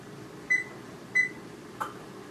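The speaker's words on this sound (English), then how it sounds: "Setting my timer always so I don't forget." Two short electronic beeps from a nearby appliance, evenly spaced, followed by a fainter click, in a quiet room.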